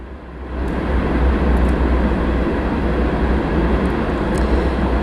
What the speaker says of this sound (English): I hope you could hear because there's a train.